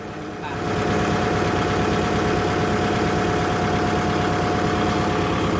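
A Kubota MU57 tractor engine runs at high throttle, a loud steady diesel drone that swells in the first second and then holds constant and close, with voices speaking over it.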